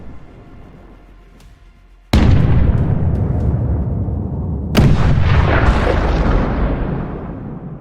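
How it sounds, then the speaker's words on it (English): A Ukrainian Leopard tank opens fire on an advancing Russian column: a quiet rumble, then a sudden loud close blast at about two seconds with a long rolling echo, and a second heavy shot near five seconds that rumbles out slowly. "A Ukrainian Leopard opens fire at the occupiers."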